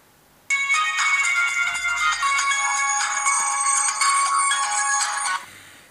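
A ringtone plays from a cheap Chinese-made Xperia X3 clone phone, a bright electronic melody of steady repeating tones lasting about five seconds, loud and close, starting abruptly and cutting off cleanly, with no talking.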